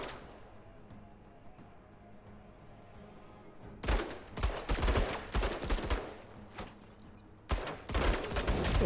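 Gunfire from the tactical video game Menace: after a quiet start, loud bursts of shots and volleys break out near the middle and continue in clustered salvos, with a brief lull before a final barrage.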